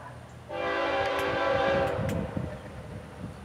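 The FEC101 freight train passes with its locomotives, giving a loud tonal blast over rolling rail rumble that fades to low clattering.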